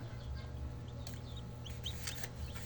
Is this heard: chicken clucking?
yes